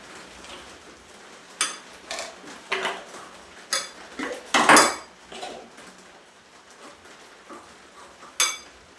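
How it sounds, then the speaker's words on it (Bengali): Spoon clinking and scraping against a bowl while beating gram flour batter with water, a series of sharp, irregular metallic taps and clinks, fairly close, with no one talking. "এখন আমি এই চামচে করে বেসনটাকে ভালো করে ফেটিয়ে নেব"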